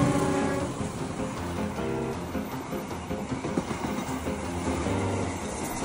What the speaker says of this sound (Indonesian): Otomatis bakal ada kereta api yang lewat.